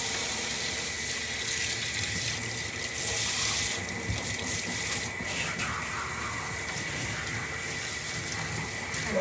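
Running water pours steadily from a tap for bathing a dog, a continuous close gushing hiss with no talk over it.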